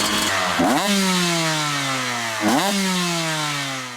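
A two-stroke single-cylinder motorcycle engine revs hard twice, each blip snapping up in pitch and then sliding back down, raspy and loud, with no voices.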